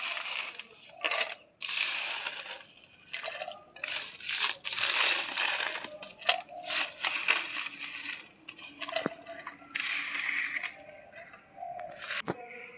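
Dried ginger pieces tumble into a mixer jar in clattering, rattling bursts of hard crisp pieces dropping onto each other and the container, with brief pauses between pours, close and moderately loud.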